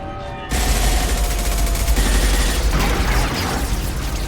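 Gunfire in the sci-fi shooter Mass Effect 2 erupts suddenly into a loud, continuous barrage of overlapping shots and rattling bursts, holding steady to the end with no talk.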